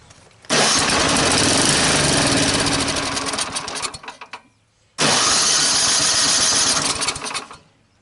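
A small engine sputters to life after a shot of carburetor spray, runs loudly for a few seconds, dies, then fires up again briefly before fading out.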